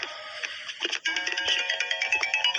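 A phone rings with a bright electronic melody, repeating in quick pulses at moderate volume.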